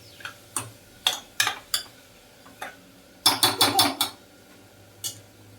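Masala frying in oil for a hotel-style vegetable pulao is stirred with a utensil, giving sharp scraping clacks against the pan: scattered single strokes, then a quick burst of four or five, close and fairly loud.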